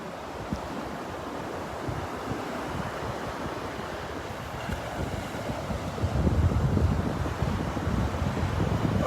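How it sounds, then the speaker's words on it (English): Ocean surf and steady wind on a Gulf of Mexico beach in North Naples, Florida, a continuous wash of breaking waves with gusty microphone buffeting that swells louder in the last few seconds, no voices. "We are ocean bound this morning. Finally back at our beach, the Gulf of Mexico."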